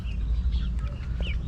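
Rhode Island Red chickens in a backyard coop give soft, intermittent clucks and short chirping calls over a steady low rumble, with no one speaking.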